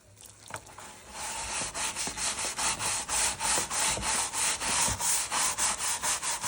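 A stiff brush scrubs old concrete in quick, regular back-and-forth strokes, each stroke a loud rasping sweep in a steady rhythm close to the ground.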